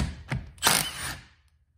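A Milwaukee 18 volt 3/8 impact wrench on a full battery fires in short bursts: a brief whir, then a louder, longer burst of hammering, close and alone, ending in quiet.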